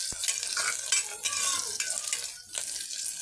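Onions sizzle and crackle in a hot pan while a utensil stirs and scrapes against the metal, close and continuous, as they are sautéed for salna.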